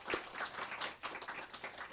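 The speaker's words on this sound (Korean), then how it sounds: "다시 한번 환영의 박수를 좀 전해드리겠습니다." Applause from a church congregation greeting two visiting young members at a Sunday worship service, a dense patter of many hands clapping together and sustained steadily through the whole moment without voices.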